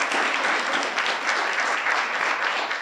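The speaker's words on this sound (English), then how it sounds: "May I ask, please, for a round of applause for all of today's spellers for even getting here." Steady, loud audience applause for student spellers at a school district spelling bee final, a dense continuous wash of clapping from a large crowd.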